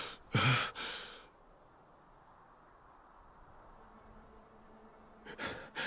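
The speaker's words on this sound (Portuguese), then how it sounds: "Ele tá respirando normal pra mim, pra quem tá com uma garganta cortada." Breathing of a character with a cut throat in the Shadow of War video game: a loud ragged inhale-exhale at the start, quiet hiss in between, and another harsh breath at the end.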